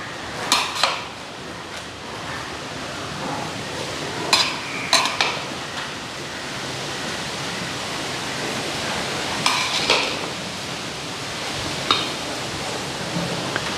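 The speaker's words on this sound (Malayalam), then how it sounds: "ഇളക്കി മിക്സിങ് ആക്കണം." Biryani being stirred and mixed in a pot makes faint, scattered scraping and clinking strokes over a steady hiss.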